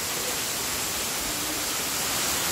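Dense, steady hiss of heavy tropical rain pouring down in windy weather, broadband and unbroken, close and loud throughout with no voices.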